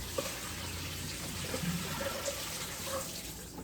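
Water draining off soaked potatoes for wing chips, a continuous pouring splash and trickle at moderate volume, heard alone without speech.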